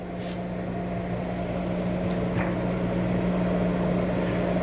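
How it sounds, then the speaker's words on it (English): A metal lathe turns at 425 RPM while drilling a hole through a workpiece, giving a steady, even machine hum with a constant low tone. Faint scraping ticks sit over the drone, with no talk. "we're going to be drilling all the way through"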